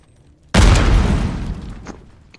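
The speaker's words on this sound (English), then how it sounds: "Throw a grenade!" A single loud grenade blast in the video game Call of Duty Warzone, a sudden heavy boom after a quiet moment that rumbles and slowly fades over about a second and a half, with no voices over it.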